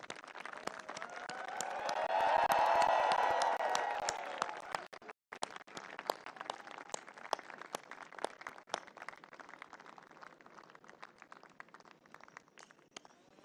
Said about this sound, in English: graduates, please rise from your seats and honor your parents and family with a big round of applause